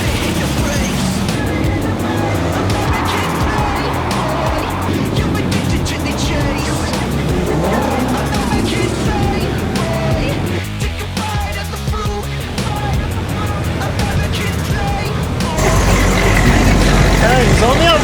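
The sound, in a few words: cars of over 400 horsepower driving at a motor show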